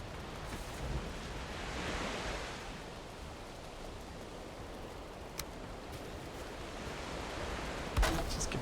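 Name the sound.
ocean waves in video game Valheim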